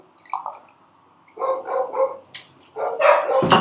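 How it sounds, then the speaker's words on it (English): Dogs bark in a house, presumably at a postman or a delivery, with several sharp, close barks in two bursts separated by short pauses. "Dogs are off, there must be a postman or a delivery."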